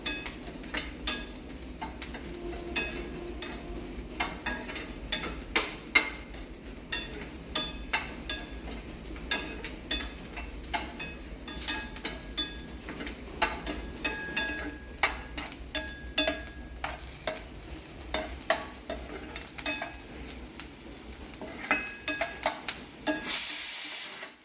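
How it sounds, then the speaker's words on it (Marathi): Chopped onion being roasted in a pan until pink gives a low, steady sizzle, with repeated scraping and stirring knocks throughout and a brief louder clatter at the end. "कांदा आपण भाजत ठेवलेला आहे गुलाबी रंगाचा होईपर्यंत,"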